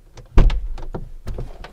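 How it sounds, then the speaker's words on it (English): A Mercedes G-Class with Hofele Design rear doors opens with a sharp mechanical clunk, followed by a series of short motorized whirs and clicks as the running board flips out. "So if you open the door, the running board will also flip out."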